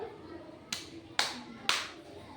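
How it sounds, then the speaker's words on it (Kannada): Children in a classroom do a drum-style clap, three loud evenly spaced hand claps about half a second apart over a quiet room background. "ನೆಕ್ಸ್ಟು ಡೊಳ್ಳು ಚಪ್ಪಾಳೆ"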